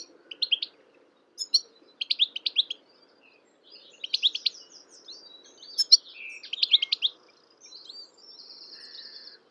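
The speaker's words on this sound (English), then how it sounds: "They're very stressed goldfinches." Stressed goldfinches at a bird rescue centre giving bursts of high, thin twittering calls in irregular clusters, fairly close, over a faint low hum, with no talk.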